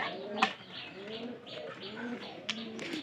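A pigeon coos softly in a Bangladeshi home pigeon loft, a nesting bird that is still carrying straw, with several low rolling coos repeating under faint background chatter and a couple of sharp clicks.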